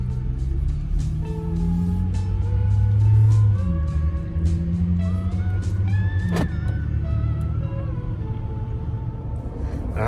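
A Jeep Gladiator pickup on oversized tires drives along with a steady engine drone and road rumble, nearby and loud, the engine note rising and falling slightly as it moves.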